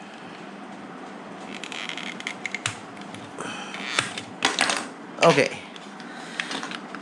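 Plastic side panels are pried and popped off a Razer Raiju Tournament Edition controller: close, sharp clicks and snaps cluster toward the end, with light handling rattle between them and a brief spoken word.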